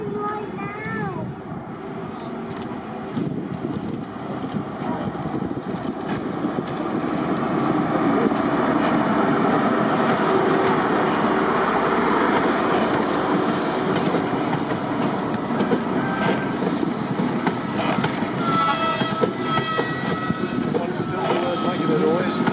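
A diesel locomotive train on the Severn Valley Railway at a spring diesel gala approaches and rolls past, a steady rumbling roar that swells and holds loud with rail clatter, while people talk nearby.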